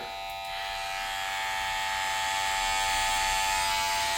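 A cordless Andis Master replica hair clipper runs close up with a steady, fairly quiet high-pitched electric buzz that swells slightly as it continues, with no talking.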